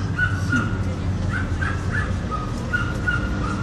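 Birds calling outdoors, several crow-like caws spaced irregularly over a constant low rumbling background, moderately near.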